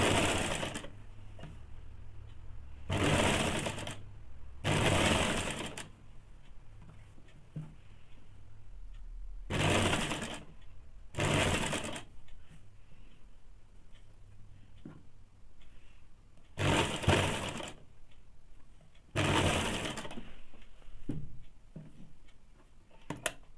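A sewing machine stitches saree blouse fabric in short, separate bursts, about seven whirring runs spaced by quiet pauses, close and clear with no talking.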